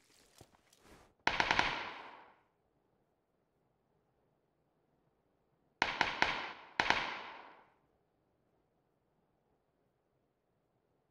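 Distant bursts of gunfire from a PUBG firefight, with a few quick pops and then two clusters of rapid shots several seconds apart, each trailing a faint echo against quiet.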